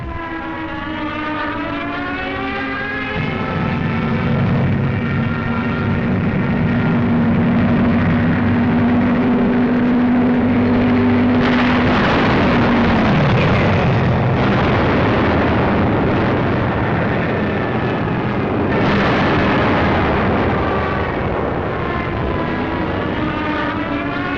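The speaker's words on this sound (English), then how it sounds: "From the skies, a bombardment to which we had no adequate answer." Aerial bombardment from the WW2 Tunisian campaign in North Africa: continuous loud roar of aircraft engines with a descending whine and heavy explosions rumbling throughout, dense and relentless with no pauses.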